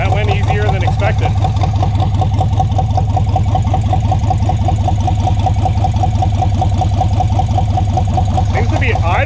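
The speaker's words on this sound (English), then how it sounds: "Seems to be idling at a pretty good speed too." Freshly started V8 engine idling in a Datsun 720 pickup, a loud, close, steady rumbling idle with an even pulsing rhythm that runs throughout without talk.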